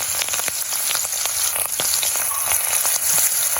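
Dense, steady sizzling and crackling of prawns frying in hot oil, close and continuous, with no voices.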